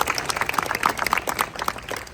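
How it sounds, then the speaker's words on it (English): Audience applause at a Westminster 150th anniversary gala, a dense patter of many hands clapping at moderate distance, steady throughout with slight swells and a faint voice or cheer mixed in. "Huge round of applause."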